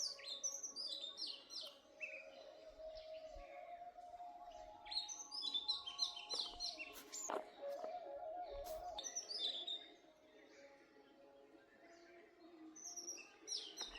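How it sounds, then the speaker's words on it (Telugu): Several birds chirp and call near an old mango tree, with bursts of bright tweets and short trills coming and going over a quiet background, some close and some farther off, with a faint low hum beneath. "Birds sound."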